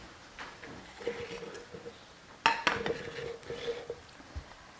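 A kitchen knife being picked up from among dishes while cooking chicken curry, with soft clinks of cutlery and pots, one sharper clatter midway, and light scattered metallic taps.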